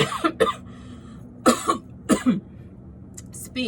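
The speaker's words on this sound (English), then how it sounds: "Excuse me. I'm coughing" Several sharp coughs come in short bursts, close and loud, with a throat clear between them.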